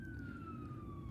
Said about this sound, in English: freaking sirens in Deep Ellum